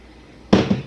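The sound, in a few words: water poured onto rice for oven rice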